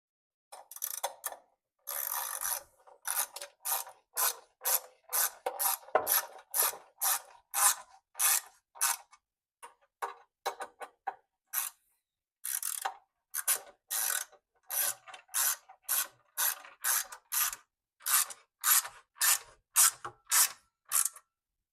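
An Allen key ratchets six Allen head bolts snug on a Vevor plate compactor, giving quiet, close clicking bursts in steady rhythm separated by short pauses.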